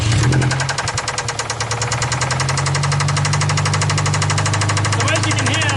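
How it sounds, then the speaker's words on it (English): A free car's engine running with its rear mufflers chopped off, a loud, raw rumbling exhaust with rapid knocking pulses that settles into a steady throbbing idle, close up. "let's see what it sounds like with those rear mufflers chopped off"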